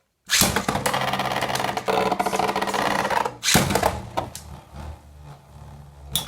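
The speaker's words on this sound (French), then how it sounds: "Donc là par contre je vais lancer quand même un peu plus fort." A Beyblade spinning top is launched into a small battle arena, then whirs and rattles loudly and continuously against the walls, with a sharp clash partway through before the spinning gradually softens.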